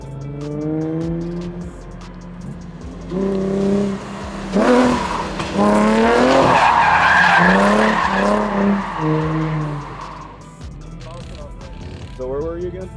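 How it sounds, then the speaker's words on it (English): Cars drifting at a girls' drift day at the OSW track, tyres skidding and squealing through long slides while engines rev and rise in pitch, loud and fairly close, with people talking in the background. "Just here watching drifting."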